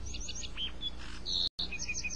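Sparrows chirp and tweet in quick high bursts, several small birds calling over a steady low outdoor rumble, fairly close, with a brief dropout near the end.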